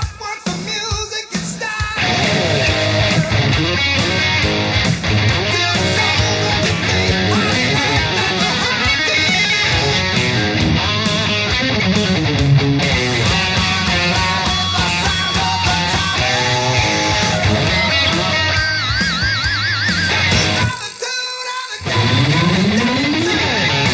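Distorted electric guitar plays the dense, driving verse 2 rhythm, loud and continuous for most of the stretch with a brief drop near the end before resuming, with no speech.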